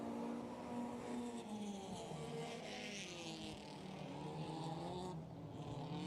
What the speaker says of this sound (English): Back in 5th place, Wagner trying the highest line I think I've seen a 4-cylinder run in a long time